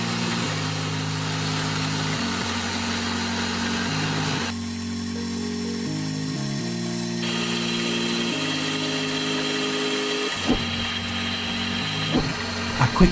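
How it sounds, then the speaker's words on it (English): Milling machine spindle running steadily, with a wiggler used to position it over a corner of the stock; a close, constant mechanical whine whose pitch shifts in steps, with faint clicks near the end. "I used a wiggler to position the spindle over one of the corners."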